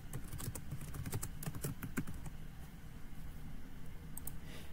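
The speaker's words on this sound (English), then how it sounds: "In the subject line, type the subject." Quick bursts of computer keyboard typing as an email subject line is entered, close and fairly soft clicks in a rapid irregular rhythm that trail off toward the end, with no talking.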